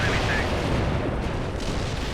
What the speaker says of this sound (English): Carpet bombing.